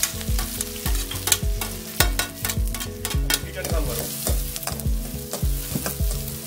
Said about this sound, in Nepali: हामीले अनियन चप अनियनलाई यसरी फ्राई गरियो